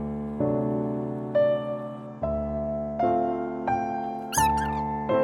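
A cat meows repeatedly in long, drawn-out cries, close and loud, with one higher squeaky call near the end.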